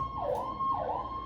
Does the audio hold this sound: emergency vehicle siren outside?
yes